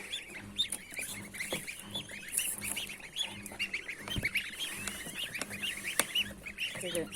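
Newly hatched goose goslings from an incubator peep in a dense, continuous chorus of high, overlapping chirps, close by indoors beside a stove, with a few louder calls standing out.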